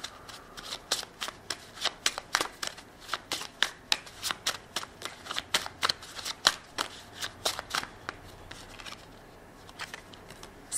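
A deck of tarot cards is shuffled by hand, giving a steady run of sharp, close riffling snaps at an even rhythm for about ten seconds, with no voices over it.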